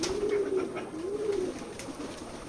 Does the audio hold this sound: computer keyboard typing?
no